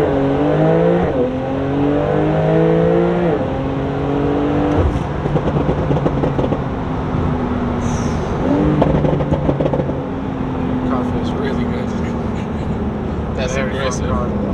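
A 2021 Porsche 992 Turbo S launches hard. The engine note climbs sharply through several quick upshifts, then settles into a loud, sustained roar, with voices talking over parts of the run.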